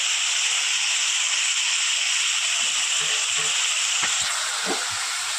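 Spices frying in hot oil in a pan while making jhinge jol bora, a steady loud sizzling hiss with a few soft clinks near the end.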